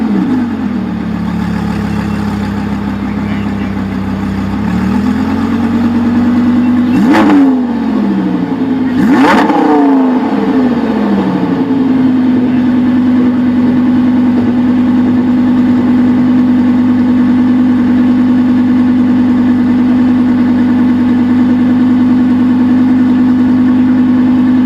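A car with a titanium exhaust system idles with a steady low rumble, then gives two sharp blips of revving around the middle before settling back to a smooth, loud idle at close range.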